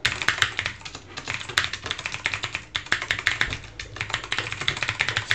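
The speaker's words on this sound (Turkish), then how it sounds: "mekanik klavyeyle çatır çutur çatır çutur bizi duyacaksınız" Rapid, uneven clicking of keys on a mechanical keyboard during a game stream, close and crisp, with bursts and short pauses.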